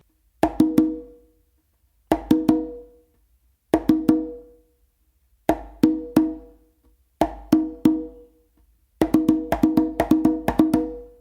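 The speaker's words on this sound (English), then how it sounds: "you're going to do a close slap with your dominant hand on the conga, followed by 2 opens with your non-dominant hand on the conga" Six groups of conga strokes, each a close slap with one hand followed by two open tones with the other, ringing clearly and close with even pauses between groups; the last group runs several patterns together.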